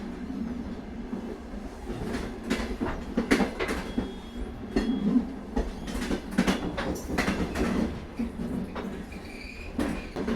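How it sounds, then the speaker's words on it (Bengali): A moving train in an animated ghost story rattles steadily along the tracks at night, a continuous rhythmic clatter of wheels and carriages at moderate loudness, with no voices. "ট্রেন চলতে শুরু করলো।"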